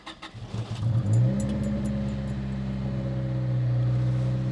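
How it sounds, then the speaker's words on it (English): A 1996 Honda Civic hatchback cranks briefly with starter clicks, then the engine catches and settles into a loud, rough idle, droning steadily close by with the exhaust missing. "I'll try and fire her up real quick just to show you guys that yes, it is a working car."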